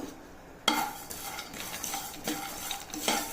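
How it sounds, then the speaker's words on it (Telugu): Peanuts roasting in a pan on the stove, stirred with a spatula in a steady scraping rhythm, clear rustling scrapes and rattles over a faint sizzle, close and moderately loud. "వేరుశనగ గింజల్ని వేయించుకుందాం"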